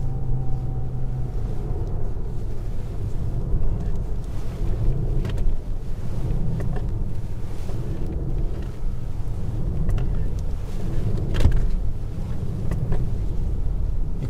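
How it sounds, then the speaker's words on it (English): Armored Mercedes-Benz S680 Guard V12 sedan, twice as heavy as a Maybach S-Class, accelerating to 50 km/h, its tires producing a steady low rumble and road roar throughout, with wind buffeting the microphone. "You can also hear the tires."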